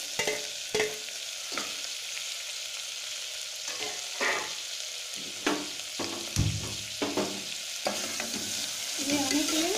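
Garlic, dried red chillies, tamarind and tomato sauté in a pan for green gram kuzhambu, a steady sizzle broken by intermittent scraping stirs of a spoon, close and with no talking.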